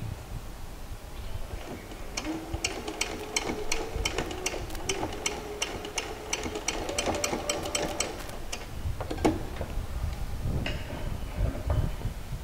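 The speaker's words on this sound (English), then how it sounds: "Remember to also stitch right on top of the previous stitching line." A sewing machine runs steadily through fabric, stitching back over an earlier seam line while making a short garment, with a fast rapid ticking that holds for several seconds, pauses, then resumes briefly, close and clear.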